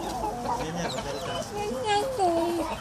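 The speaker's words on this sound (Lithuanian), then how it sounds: "Tai tegu apsifranta su vištom dabar." Hens cluck and murmur nearby in a steady run of short calls, mixed with people talking quietly.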